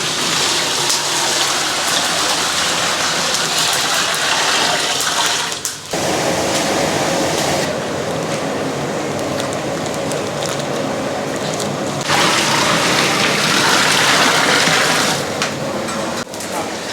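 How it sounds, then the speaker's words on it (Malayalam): Water gushes in a strong continuous stream into a large pot of soaked rice for kuzhimanthi, a loud close splashing pour that shifts briefly in pitch partway through and then continues. "വെള്ളം ഒഴിക്കുകയാണ്"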